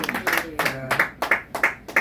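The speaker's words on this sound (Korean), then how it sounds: "먼저 하나님께 영광의 박수를 올립니다" Applause at a church thanksgiving worship service marking a campus opening, with claps bunched in a quick, steady rhythm of sharp bursts throughout a short stretch.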